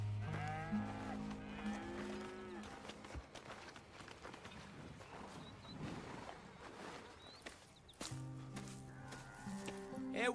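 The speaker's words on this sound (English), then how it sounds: "Here's the cows." Cattle moo several times in a Red Dead Redemption 2 farm scene, long low calls near and clear at the start and again near the end, with footsteps and faint movement in between.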